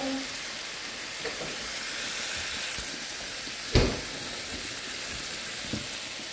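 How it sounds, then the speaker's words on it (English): Peppers and onions with a little butter sizzling in a pan on a stovetop; a steady, moderate frying hiss carries through, with a few light clinks and one louder knock near the middle. "So we're going to throw in our pepper and onions,"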